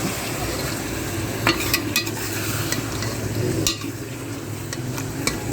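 Chicken with achar gosht masala is stirred in a frying pan, continuous close sizzling under repeated scraping strokes of a spoon, with a few sharper clicks.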